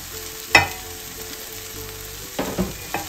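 Onions sizzling and frying in a pan, a steady soft crackle with a few sharper pops and stirring clacks.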